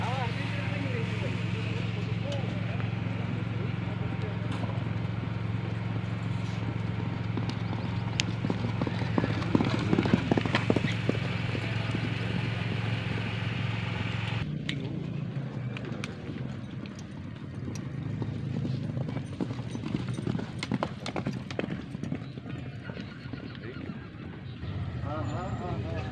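Hooves clip-clop steadily as horses trot during training for a traditional Gayo horse race in Takengon, Aceh, with an occasional whinny and people talking over the rhythmic hoofbeats.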